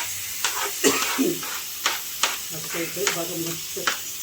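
Tomatoes sizzle and fry in a pan for sambar, a steady hiss broken by repeated clinks of stirring, with someone talking over the cooking.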